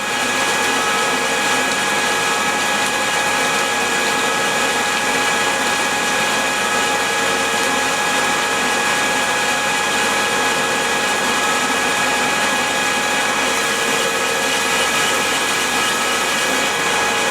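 A tappet grinding machine working Willys L and F 134 engine tappets, with water, runs continuously with a high, steady whine and harsh abrasive hiss, loud and unchanging throughout.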